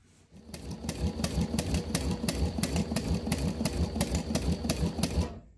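A Juki industrial sewing machine stitches fabric at a steady, fast clattering rhythm, starting abruptly and running loud and close for several seconds before stopping.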